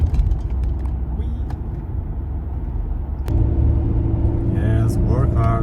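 An Alfa Romeo 147 engine pulls hard through acceleration in traffic on a UK road trip, a steady close rumble that grows louder and fuller partway through, with a voice talking over it.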